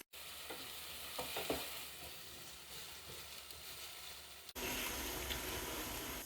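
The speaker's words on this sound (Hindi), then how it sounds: "कीमे को हम तकरीबन 5 से 6 मिनट घी के अंदर फ्राई करेंगे।" Minced meat (mutton or beef keema) fries in ghee with a steady close sizzle, a few stirring scrapes early on, and a louder, denser frying hiss after a brief break midway.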